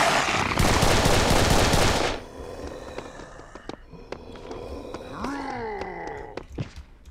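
Video game gunfire in Serious Sam: a loud, dense burst of rapid automatic shots for about two seconds, then scattered single shots and a groaning, moaning creature cry.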